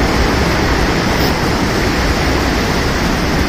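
A tiered waterfall on a hiking trail in Japan gives off a loud, steady roar of rushing water, a broad close hiss with no pauses.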